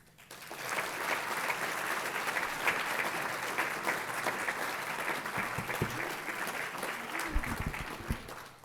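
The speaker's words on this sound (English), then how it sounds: "please give a very warm round of applause for every honoree" Warm applause from an audience at a human rights awards ceremony in Virginia Beach, steady dense clapping honoring award recipients, sustained throughout with a few louder claps and low thumps near the end.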